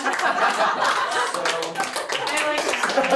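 Scattered clapping from a comedy show crowd mixed with chuckles and murmured voices after a joke, irregular and lively rather than a full ovation.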